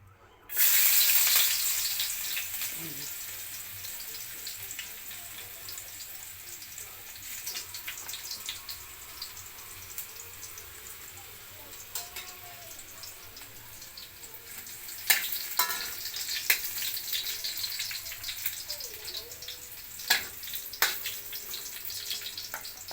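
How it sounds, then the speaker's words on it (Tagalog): Garlic sautéing in a smoking-hot pan, a loud steady sizzle from the first second that stays strong throughout, with occasional stirring scrapes and clinks rising near the end; no talking. "Ngayon guys, igigisa na natin yung yan, yung bawang. Ayan, nausok-usok na yung aking kawali."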